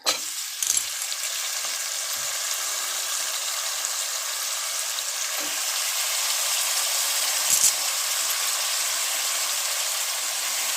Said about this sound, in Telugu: కోసి పెట్టుకున్న వంకాయ ముక్కలు